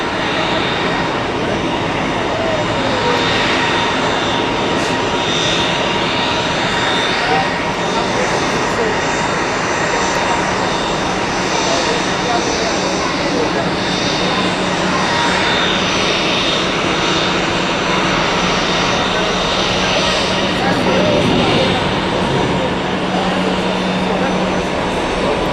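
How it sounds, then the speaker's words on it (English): A Helvetic Embraer E190-E2 jet at Zurich Airport, heard from an observation deck as a loud, steady engine roar with broadband rushing noise that holds for the full span, swelling slightly near the end. "Both of these actually are E190 E2s from Helvetic."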